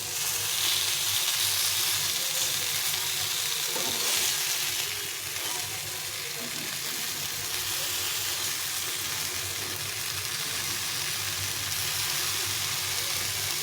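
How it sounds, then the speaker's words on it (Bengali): Food frying in a pan until reddish gives a continuous, dense sizzle and hiss, close and fairly loud, steady throughout with a slight drop partway, with no talking. "একটু লাল লাল করে ভেজে নিলে খেতে ভালো লাগবে।"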